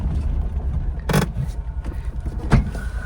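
A Nissan Pao car drives along with a steady low engine and road rumble, broken by a couple of brief clicks and knocks from inside the cabin.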